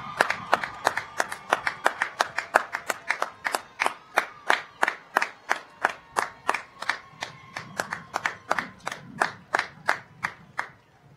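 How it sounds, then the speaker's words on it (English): At a 2020 commencement ceremony, an audience claps steadily and rhythmically in near-unison, a regular beat of about three claps per second that continues loudly and evenly throughout. "Round of applause"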